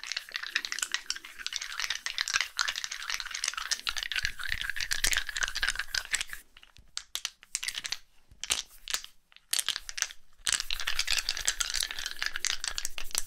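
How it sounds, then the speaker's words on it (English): Dice rattle and clatter quickly up close, in dense bursts that briefly break off into sparse clicks midway before the busy shaking resumes. "I've always liked the sound of dice"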